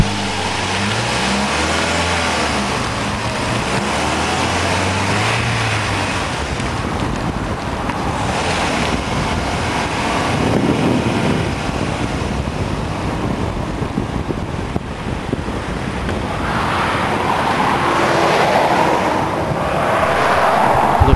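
A car drives along with a camera hung out of the window, giving loud, constant wind buffeting over a low engine rumble that swells and eases slightly as it moves. No one talks.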